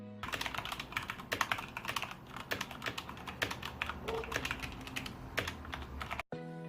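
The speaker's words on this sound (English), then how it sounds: "Here's a type test." Rapid, steady clacking of an Ajazz AK33 82-key wired mechanical keyboard with light red switches, close and crisp, keystrokes tumbling in quick uneven bursts until an abrupt stop near the end.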